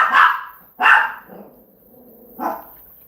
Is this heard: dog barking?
yes